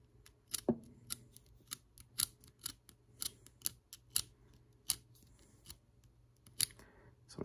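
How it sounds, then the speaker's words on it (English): An X-Acto knife scuffs the edge of a 3D-printed plastic Nerf part, giving a series of sharp, close scraping strokes in a loose, repeating rhythm over a quiet background. "I don't have sandpaper handy, so I'm using an X-Acto knife."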